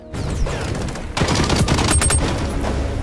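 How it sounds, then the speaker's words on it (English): Rapid gunfire bursts and explosions in the shooter game XDefiant, loud and dense with echoing tails, continuing steadily throughout. "When fighting indoors, echoes of gunshots and explosions can be heard."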